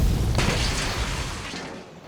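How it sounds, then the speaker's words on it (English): A bomb blast from under 500 grams of plastic explosive going off at night in a building on Orchard Road, heard as a loud, deep boom with a broad burst that rumbles on and slowly fades. "An explosion occurred. Boom!"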